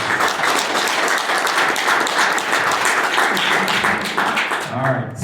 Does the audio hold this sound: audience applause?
yes